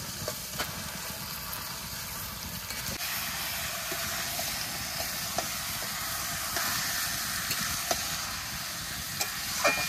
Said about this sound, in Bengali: মশলাটা ভাজা হয়ে গেছে, তেল ছেড়ে গেছে, এবার মাংসটা দিয়ে দেবো।